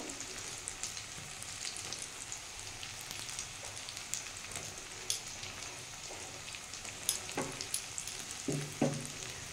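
Chopped onion and green chillies frying in a pan for brinjal bharta, an even, continuous sizzle with occasional spatula taps and scrapes near the end, close and moderately quiet.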